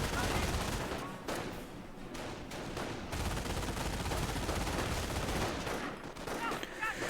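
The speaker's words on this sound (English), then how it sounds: "we've got this MG42 now engaging" MG42 machine gun and rifle fire in a Company of Heroes battle, dense and continuous bursts filling the whole stretch, loud and close with layered shots and rattling fire.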